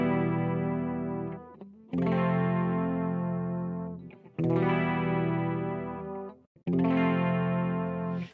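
Three sustained clean electric guitar chords, each ringing out for about two seconds with a brief gap between, moving back and forth between a minor one chord and a flat two chord.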